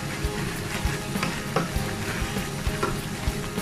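Steady sizzling and bubbling of chicken igado with liver simmering in a pan, with repeated scraping and clinking knocks as it is stirred.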